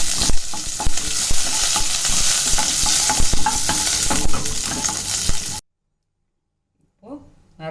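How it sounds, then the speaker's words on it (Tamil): Curry leaves fry in a hot pan while tempering rasam, giving a loud, steady sizzle with stirring scrapes. It cuts abruptly to silence, then a voice briefly speaks. "இப்போ கருவேப்பிலை சேர்த்துக்கலாம்."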